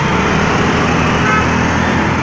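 TVS Ntorq 125 scooter engine running steadily at close range, a continuous buzzing idle with no pauses or speech.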